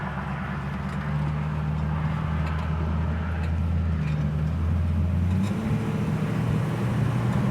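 Engine of a 1967 Mustang with a two-barrel carburetor while driving, a steady low drone with a slight pitch shift partway through, heard from inside the car.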